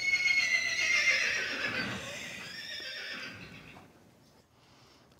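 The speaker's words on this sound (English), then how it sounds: "it's a horse neighing." A horse neighs loudly with a long, shrill whinny that rises and trembles, then fades into quiet with faint hoof-like thuds.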